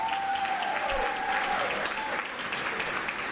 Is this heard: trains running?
no